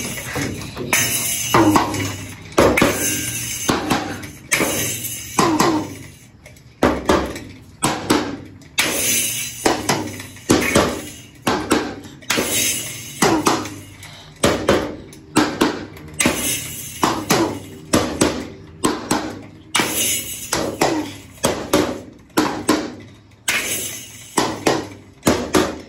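A child's Anpanman toy drum set is struck in repeated bursts of close, loud beats with short pauses between runs, and there is no talking over the drumming.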